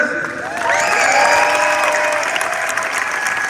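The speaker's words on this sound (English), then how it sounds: "let's give him a good round of applause" Loud, steady applause from a crowd at an LA Clippers event in Los Angeles, with cheering voices rising over the clapping and holding for several seconds.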